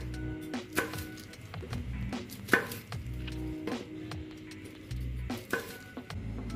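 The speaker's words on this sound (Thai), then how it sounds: "ถั่วฝักยาวครับ3ฝักครับก็จะหั่นลงไปที่ครกเลยนะครับ" Yardlong beans are sliced straight into a mortar already holding chilies and garlic, giving a string of quick knife taps and clicks against the mortar close up, uneven in rhythm, over a low steady background hum.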